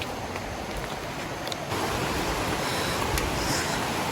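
Leke Leke waterfall in Bali, a steady broadband rush of falling water heard close, growing slightly louder partway through, with no talking.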